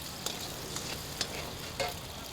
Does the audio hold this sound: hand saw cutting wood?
no